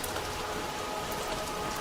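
Steady rain pours across a surface without a break, a dense, even hiss of drops that stays at the same level from start to finish with no voices.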